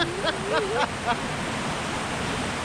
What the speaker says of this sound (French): on voit un bout de cascade là-haut